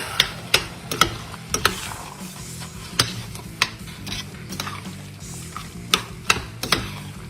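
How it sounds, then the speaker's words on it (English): Brisket meat being stirred into a pot of chili, with repeated scraping clicks and knocks from the spoon over a low bubbling simmer, close and steady with no talking. "Stir that up a little bit."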